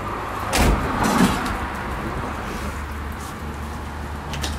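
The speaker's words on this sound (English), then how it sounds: "Close the door." A van's sliding door rolls and shuts with a couple of heavy thuds close by, followed by steady background rumble outdoors.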